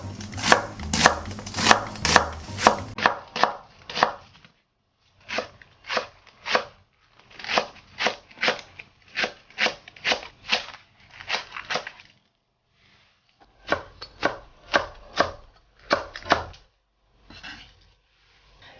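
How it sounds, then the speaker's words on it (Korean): A knife chops steadily through mackerel and vegetables on a cutting board in quick bursts of sharp taps, close up, with brief pauses between runs and no talking. "재료는 모두 큼직하게 잘라주겠어요"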